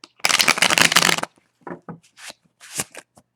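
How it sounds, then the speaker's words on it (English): A deck of cards riffle-shuffled in one long, dense burst of rapid flutter, followed by a few short taps and shuffling noises. "we'll give it a couple more shuffles"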